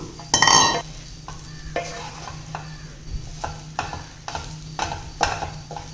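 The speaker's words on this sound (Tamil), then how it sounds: "இந்த தோசையை போட்டு அந்த பொடியோடு நல்லா கலந்துடலாம்." Dosa pieces tossed with ghee and idli podi in a hot pan, with repeated scraping, clattering spatula strokes over a low sizzle, one sharp clank near the start and steady stirring after.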